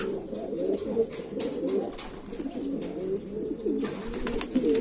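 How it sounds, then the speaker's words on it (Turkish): A red pigeon cooing close by, soft repeated throaty coos in a slow rhythm over faint background noise. "Şöyle bir kırmızı keşfirim var arkadaşlar."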